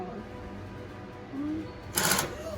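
A Fusion high post sewing machine stitches with a wig attachment, giving a soft mechanical hum with brief squeaky tones and a sudden burst of whirring near the end.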